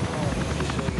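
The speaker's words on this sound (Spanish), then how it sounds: "la Fuerza Negra despega en sus helicópteros hacia el refugio en cuestión" Military helicopters lifting off for a special operations night raid, a loud, close, steady rotor thrum with rhythmic blade chop and engine whine, with speech over it.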